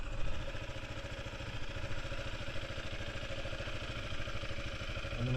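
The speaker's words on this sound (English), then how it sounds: "Now we were using that bike to pull start my other piece of junk motorcycle." An old, junky motorcycle engine runs steadily just after a pull start, a close, even mechanical chugging with a rattly clatter that holds at a constant idle throughout.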